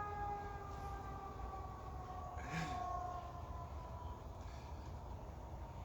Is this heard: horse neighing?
no